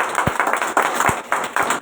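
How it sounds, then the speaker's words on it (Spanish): A church congregation claps together in a loud, brief burst of rhythmic applause, the claps falling in an uneven steady beat close by. "Démosle un aplauso grande al Señor."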